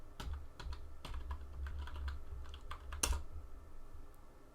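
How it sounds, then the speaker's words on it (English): Keystrokes on a computer keyboard as a sudo password is typed, a quiet irregular run of close clicks ending in a sharper final key press, with no talking. "Type inside the sudo password,"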